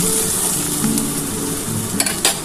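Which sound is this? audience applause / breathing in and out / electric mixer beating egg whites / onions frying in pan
onions frying in pan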